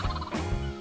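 A vulture mob from a Minecraft exotic birds mod lets out a short, close gobbling squawk in two quick bursts, loud and alone.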